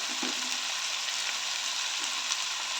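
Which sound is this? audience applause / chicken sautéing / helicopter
chicken sautéing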